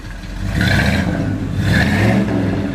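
A 1955 Ford F100 pickup with a big-block engine and dual exhaust runs loud and close, rising in two swelling revs over a steady low rumble.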